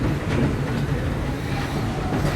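Disneyland Railroad train rolling along its track, a steady loud rumble of wheels and carriage noise filling the short stretch with no voices.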